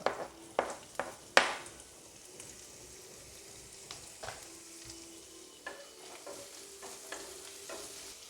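Onions fry in a pan with crushed ginger and garlic for an egg curry. A soft, continuous sizzle is broken by a few sharp utensil clinks and scrapes of stirring near the start.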